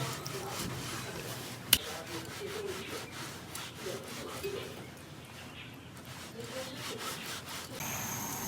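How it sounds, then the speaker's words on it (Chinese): A knife scoring a cross pattern into pork skin for Dongpo pork makes steady rasping, scraping strokes up close, with one sharp click partway through and faint background noise. "把肉皮给它带下刀，立成十字路口，方便入味。"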